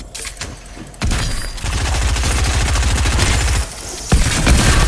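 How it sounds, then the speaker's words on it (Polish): Pump shotgun fire in the Fortnite video game, loud booming shots with a dense rapid burst of gunfire between them, heard up close over constant game noise. "bo ładnie siadł ten strzał z pompy"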